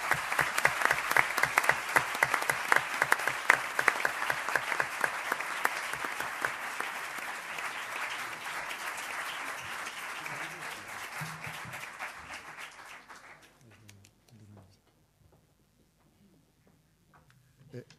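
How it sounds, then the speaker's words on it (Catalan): Strong audience applause at a university graduation ceremony, dense sustained clapping that fades out over about thirteen seconds, followed by near-silence. "a tots vosaltres us demano, si us plau, un fort i molt merescut aplaudiment"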